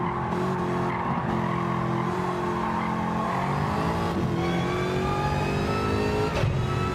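Pagani Huayra track car in Gran Turismo 7 racing at full volume, its engine revving and shifting through sequential gears with rising and falling pitch sweeps and tire squeal, continuous and loud.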